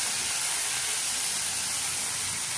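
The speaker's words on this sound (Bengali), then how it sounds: "এই যে এখানে চিংড়ি মাছ দিয়ে দিচ্ছি আর জিরের ফোড়ন দিয়ে দিচ্ছি" Prawns with cumin, bay leaf and dried chilli sizzle in hot oil, a loud, close, steady hiss throughout.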